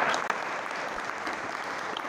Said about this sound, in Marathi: आपण टाळ्यांचा करा